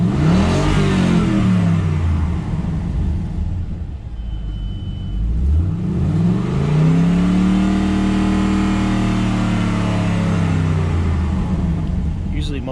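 A Pontiac GTO engine revs hard and close, sweeping up high and falling back twice in long, loud pulls, with a voice reacting in between.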